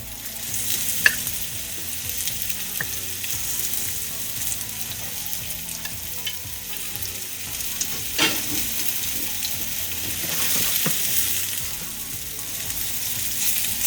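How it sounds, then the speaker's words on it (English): Pork cutlets dredged in seasoned flour frying in a pan, a loud continuous sizzle with occasional pops and crackles throughout. "Now the pork that's been dredged in the seasoned flour is going down"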